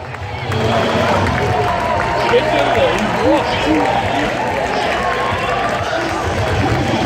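A large crowd at a Bangladesh versus New Zealand match cheers and claps for Bangladesh, keeping up a steady roar of many voices with shouting close by.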